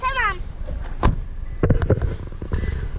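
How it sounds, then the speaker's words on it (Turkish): A 2017 Toyota C-HR door slams shut once, a sharp, close thud near the one-second mark, with talk and handling noise in the cabin before and after. "Kapatıyorum kapıyı."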